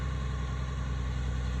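A tractor engine runs steadily at a campus renovation site, a continuous low rumbling idle held close and even throughout, with no voices.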